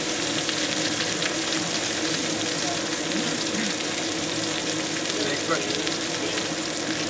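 Food sears in a flat-bottomed steel pan seasoned in the oven in a restaurant kitchen, a loud, dense, continuous sizzle close up that holds steady throughout.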